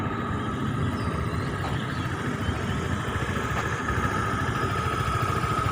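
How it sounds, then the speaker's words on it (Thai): A used car idles in a steady, quiet low rumble, even and unbroken throughout, with no voices over it. "เครื่องยนต์ทำงานอยู่นะครับผม เบานิ่งเลยนะครับ"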